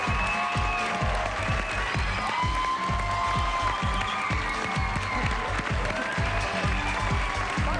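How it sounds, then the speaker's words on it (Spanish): Studio audience applause on a Spanish-language television talk show, steady loud clapping throughout with some crowd noise and a music-like tonal bed layered underneath. "Recibamos con un fuerte aplauso"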